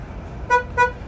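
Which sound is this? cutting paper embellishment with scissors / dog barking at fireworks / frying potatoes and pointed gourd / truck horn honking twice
truck horn honking twice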